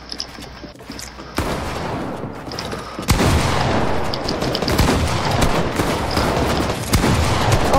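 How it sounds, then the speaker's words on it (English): Rapid assault rifle fire in Fortnite, dense bursts of shots rolling continuously and growing louder partway through, with no talking over them. "I can't shoot you with my AR, Red. I'm legit standing there shooting 20 bullets"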